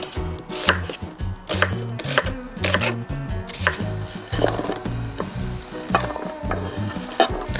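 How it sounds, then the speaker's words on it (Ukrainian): A knife chops onion into large half rings on a board, a brisk series of sharp, close knocks in an uneven rhythm, with no one talking. "швиденько нарізаю цибулю"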